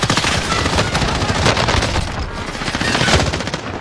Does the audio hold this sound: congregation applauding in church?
no